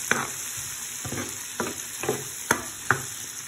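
Chickpeas (chana) are stirred and fried in a pan, with a steady sizzle under a series of sharp scraping strokes of the spoon that come roughly every half second.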